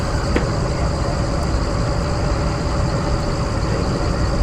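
Train rumbling steadily along in the horror video game Spider Horror Multiplayer, a continuous low mechanical rolling drone with a faint high whine and a brief click near the start.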